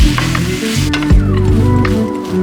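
Ground turkey cooking in a pan, a steady close sizzle and frying crackle with occasional stirring scrapes, loud and continuous, no talking.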